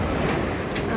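Strong sea waves crash and surge steadily on a shoreline where people swim despite rough surf, a continuous broadband roar with wind buffeting the microphone throughout.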